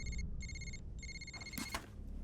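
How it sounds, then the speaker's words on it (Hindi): An electronic phone ring repeats in short bursts, three rings with brief gaps, fairly faint against a low background hum, with no one answering. "तुमने सही कहा था, फोन भी नहीं उठा रहे हैं।"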